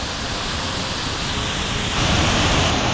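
Water rushing at a waterfall in Bali, a dense, steady roar close by that swells slightly louder partway through, with no voices.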